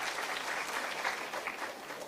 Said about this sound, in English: Please give a big round of applause to Avani Davda.